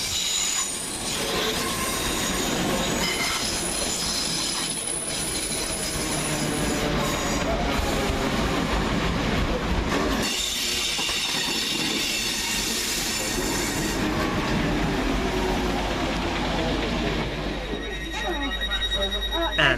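Greater Anglia class 317 units 317508 and 317510 run through Hackney Downs station, a loud, continuous rumble of a train on the rails with squealing wheels and clattering, heard close and steady throughout.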